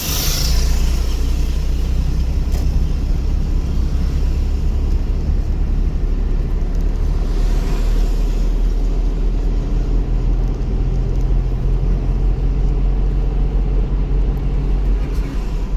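A car engine accelerating while climbing onto a flyover gives a loud, steady low drone with road rumble that holds for the whole stretch, with no one talking.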